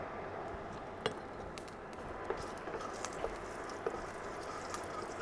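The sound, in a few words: mustard seeds spluttering in hot oil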